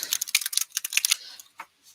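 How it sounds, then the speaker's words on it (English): A deck of cards is shuffled up close in a quick run of crisp flicking riffles, then a few softer taps and slides as it settles, with no talking. "Who doesn't love that sound of shuffling?"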